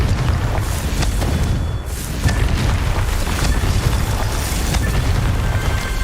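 Confringo blasting spell explosions from Hogwarts Legacy, a dense run of deep booming bursts and rumbling blasts, loud and sustained with brief pauses between impacts.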